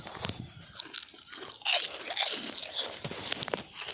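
Close, crisp crunching of a snack being bitten and chewed outdoors at a farm, with repeated brittle cracks in an uneven rhythm and no talking.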